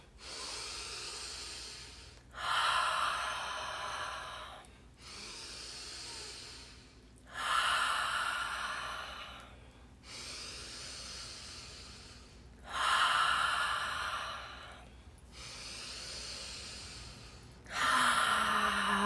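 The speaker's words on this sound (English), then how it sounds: "begin breathing in through the nose and out through the mouth in the same deep connected breathing style" Deep connected breathing, drawn in through the nose and released through the mouth: slow, regular cycles of soft inhales and louder, hissing exhales, close and alone, about one breath every five seconds.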